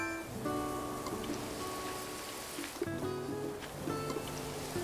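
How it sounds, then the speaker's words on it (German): Watering plants with a watering can in Animal Crossing: New Horizons: a soft, continuous splashy water spray, like light rain, over tonal game music, with no talking. "Ich guck mal, ob es einen Effekt hat, wenn ich gieße."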